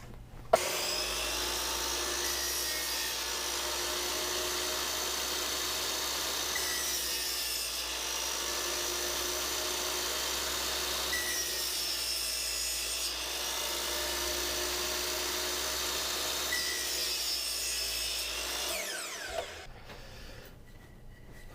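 Grooves being cut into a wooden 2x4, a close, steady rasping scrape in long strokes with brief pauses between passes, ending in a short clatter and silence.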